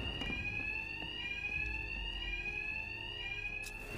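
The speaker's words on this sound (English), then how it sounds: "Two-Face's thugs won't hear me over the alarm." An alarm rings in the video game Batman: Arkham Knight as a steady, piercing electronic tone that holds unbroken at moderate loudness with a faint rumble beneath it.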